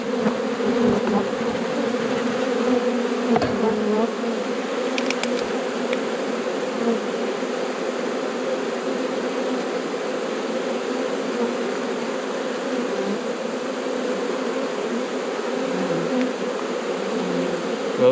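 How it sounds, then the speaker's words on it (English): A dense, continuous hum of honeybees swarms around freshly placed nuc boxes, steady and close throughout with a few individual bees flitting nearby and no talk. "Ooh, how's that for some bees?"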